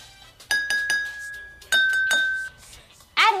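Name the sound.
spoon tapping drinking glass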